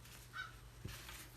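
A crow caws outdoors behind a crafter working with absorbent old book-text paper, one short clear call rising above steady low background hum, fairly close.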